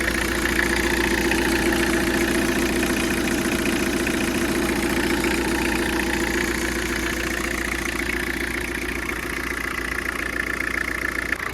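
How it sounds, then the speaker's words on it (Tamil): A Tata Sumo Grande with a 1948cc engine idles after a new timing belt has been fitted, holding a steady, close, continuous rumble with no speech. "இப்போ நான் வண்டி ஸ்டார்ட் பண்ணுறேன்."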